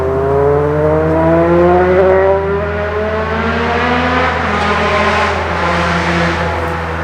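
Traffic on the A3 road about 50 meters off, a steady engine drone with rising and falling tones as cars pass one after another at moderate distance, continuous for the whole stretch with no talk.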